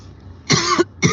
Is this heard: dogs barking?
no